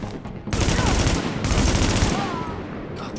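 Bursts of rapid automatic gunfire from guns in Tom Clancy's The Division crackle loudly in two long volleys with a brief break, close and heavy, with no talk over them.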